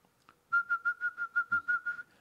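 A person whistles a quick series of about ten short, evenly spaced notes on one pitch, clear and close with no talk.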